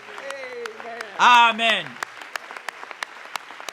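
A church congregation breaks into loud applause for about a second, overlapping a voice that is speaking, then scattered claps continue faintly.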